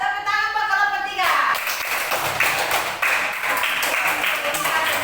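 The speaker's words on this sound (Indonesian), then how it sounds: "Tepuk tangan Pak kelompok 3" Classroom applause from students for group 3 after a group discussion presentation, a burst of dense clapping that rises abruptly and continues steadily, with a voice heard at the start.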